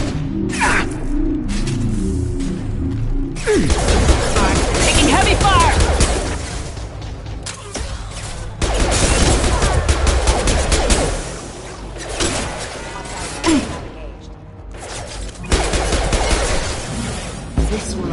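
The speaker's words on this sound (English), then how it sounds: "Taking heavy fire!" Heavy gunfire fills a Mass Effect 2 battle with dense bursts of automatic shots and explosions, rising and falling in waves, with voices mixed in among the action.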